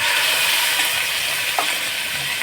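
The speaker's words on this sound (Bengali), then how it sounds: "মাংসটা খুব সামান্য ভাজবো।" Meat frying in hot ghee for a roast, a continuous close sizzle with a faint crackle and a brief stir partway through.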